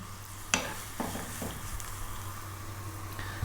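Ginger, garlic and onion drop into high-heat oil with a few sharp clattering impacts, then a steady, moderate sizzle with faint stirring continues alone throughout.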